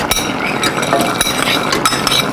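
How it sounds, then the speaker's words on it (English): A spoon clinks repeatedly against a hot pot while stirring a vegan one-pot meal with vegetables, sharp close metallic taps over a steady loud background. "Let's give it a nice stir."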